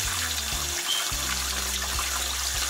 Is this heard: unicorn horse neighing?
no